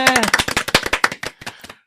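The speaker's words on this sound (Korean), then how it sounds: "박수로 맞아보죠." An audience at a Korean media event welcomes a film director and music director with a short burst of applause, dense claps near the microphone that thin out and stop within two seconds.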